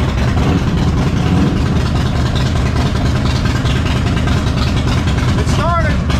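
A Harley-Davidson motorcycle engine idles with a loud, steady, low rumble close by throughout, with a voice talking over it.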